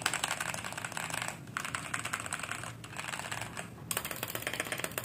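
Keys clatter on a modded Machenike K500 mechanical keyboard with foam added, rapid close-up typing in dense bursts with two brief pauses.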